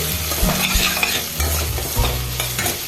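Boiled potatoes fry and sizzle in a pan over a gas flame, with steady close hissing and the scrape of stirring. Low thuds come in bursts throughout, and no one talks.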